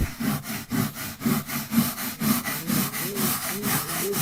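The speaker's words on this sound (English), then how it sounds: "Try to scrub the material out with a brush, or scrub the liquid into the material that's in there." A brush scrubs carpet with a BISSELL Spot Clean Pro cleaning machine, in steady back-and-forth rasping strokes, about two per second, close and fairly loud with no talk.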